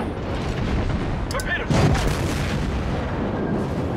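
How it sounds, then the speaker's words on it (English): Naval guns fire in World of Warships as an enemy cruiser is destroyed, a loud, continuous rumbling barrage with a heavy boom partway through and a brief voice in the mix. "You destroyed an enemy cruiser."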